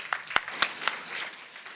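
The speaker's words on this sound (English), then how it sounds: "let's give a warm applause" A conference audience welcomes a speaker with applause: a few sharp separate claps at first, then a softer, denser patter of clapping.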